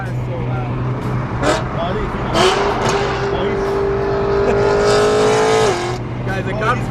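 A loud car drives past at a BMW car meet outdoors, its engine revving and droning with a sustained rising tone, while people talk over it nearby.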